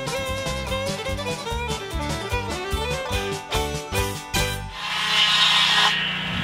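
A sawmill blade cuts into a log for rift and quarter sawn boards, a loud, steady rasping whine that starts abruptly near the end after a stretch of tonal music.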